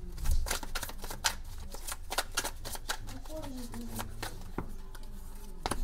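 A deck of 100 oracle cards shuffled by hand, giving a run of quick papery riffles and flicks that keep up steadily throughout, with a voice murmuring softly in the background.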